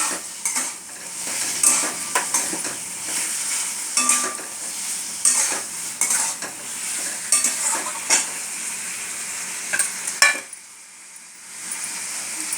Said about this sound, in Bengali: তারপরে দেখো আলুগুলো দিয়ে দিলাম। দিয়ে আমি ভালো করে নাড়ালাম।